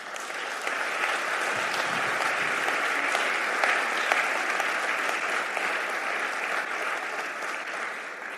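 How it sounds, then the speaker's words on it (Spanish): Sustained congregational applause in a Spanish-language church service, a thick, steady roar of many hands clapping at once, holding evenly for about eight seconds. "Si así lo crees, dale un aplauso al Señor."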